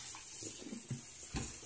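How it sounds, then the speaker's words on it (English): Water runs steadily from a tap into a bathroom sink, a soft continuous hiss with faint splashing and a few low bumps over the top. "It's a sink, not a shower."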